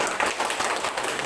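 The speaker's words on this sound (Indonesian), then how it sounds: "kita berikan tepuk tangan untuk kelompok 2" A short burst of classroom applause for a student group, a dense patter of many hands clapping at once and fairly close.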